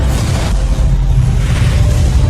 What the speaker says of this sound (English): Trying to destroy this Geth ship by activating these Citadel defense turrets.